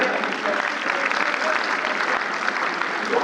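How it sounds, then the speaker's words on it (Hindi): Dense, steady applause from an audience at a theatre group's new stage production, a continuous wash of many hands clapping at even loudness throughout with no voices above it. "चाहूंगा एक बार जोरदार तालियां बजा दें"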